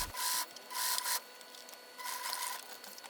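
A sewing machine stitching jersey fabric runs in three short bursts of rapid, buzzing stitching, separated by brief pauses, close and moderately loud.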